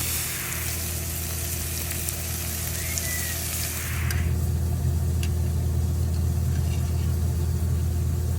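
Mushrooms frying in bacon grease in a flat pan, a continuous sizzle that thickens into a louder, steadier frying hiss about halfway through.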